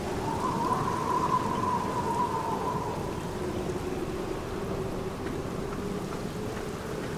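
Continuous rainfall outside a family crypt in The Black Mirror video game, a constant close hiss with a faint tonal hum fading early on, no speech.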